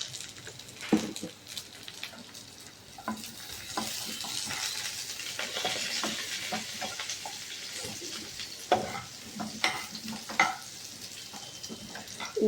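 Carrots frying in ghee in a pan, a steady bright sizzle with repeated clattering stirs and scrapes of a utensil, fairly loud and close, with no talk.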